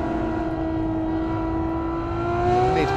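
A Ferrari F12 Berlinetta accelerates hard. A loud, smooth engine tone climbs continuously in pitch over a few seconds, with no voices.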